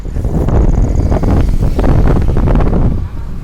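Steady roaring wind buffets the microphone as two people ride a bicycle along a road toward Kolkata, a dense low rumble filling the whole stretch with no pause.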